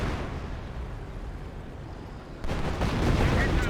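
Artillery shells land on infantry squads in Company of Heroes, a dense rumbling barrage that jumps to a louder, harsher burst of impacts partway through, with a voice talking over it.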